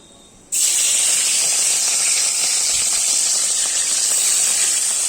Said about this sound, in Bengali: তেল গরম হয়ে গিয়েছে, এবার মাছগুলো ভাজবো।